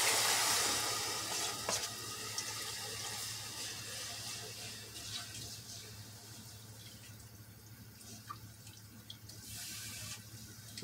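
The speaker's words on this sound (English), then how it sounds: "while that's still boiling, I'm going to add my meat and my juices." Beef gravy bubbles and sizzles close by in a pot, with a soft continuous hiss and occasional clinks and stirring sounds over a faint background hum.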